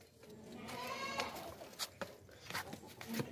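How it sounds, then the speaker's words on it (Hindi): A very tall, large goat offered for sale bleats in a few short, scattered cries, a louder one at the close, while someone talks nearby amid faint background bustle. "बहुत ही ऊंची लंबी बहुत बड़ी बकरी है"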